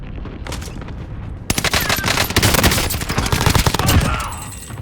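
Automatic gunfire bursts from a weapon in the video game Warzone, starting after a quieter opening and continuing as dense rapid volleys, loud and close.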